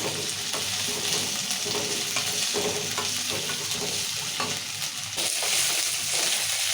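Green chilies fry loudly and continuously in hot oil in a pan, a dense close sizzle with occasional faint stirring scrapes and no talking.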